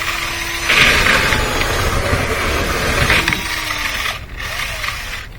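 A steady scraping, whirring rasp of a lint-removal brush working inside a clothes dryer vent duct, with rattling mechanical texture that eases off toward the end.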